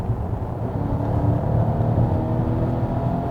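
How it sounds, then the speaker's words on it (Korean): Volvo XC90 B6 with a 2.0L four-cylinder engine pulling from about 1500 rpm, heard as a steady low engine drone and road hum inside the cabin that builds slightly, with no speech. "지금 다시 한번 가속해볼까요?"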